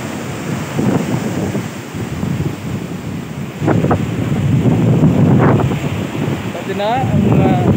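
Strong wind roars and buffets a microphone at the seaside, with surf rumbling underneath and faint, indistinct voices in the background.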